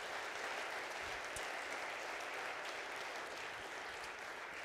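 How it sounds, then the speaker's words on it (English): A seated audience at an evening lecture event claps in a sustained, even round of applause, soft in level but unbroken from start to finish, with no voices over it. "Another round of applause,"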